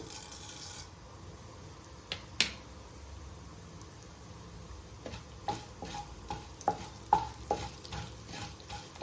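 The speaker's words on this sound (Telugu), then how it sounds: "నూనె వేడైంది. ఆవాలు, కొన్ని ఉద్దిపప్పు వేసుకుందాం." Mustard seeds and urad dal hitting hot oil for a chutney tempering: a steady close sizzle broken by sharp scattered pops and crackles that grow busier toward the end, with no one speaking.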